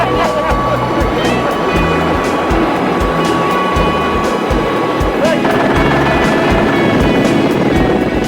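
A helicopter carrying a pig-hunting dog on the Auckland Islands thunders loudly and continuously, its rapid rotor chop filling the scene up close, with a voice talking over it.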